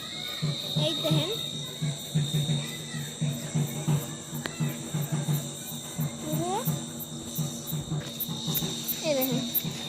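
Crickets and other insects chirp through a night scene in a dense, continuous pulsing chorus, fairly near and steady.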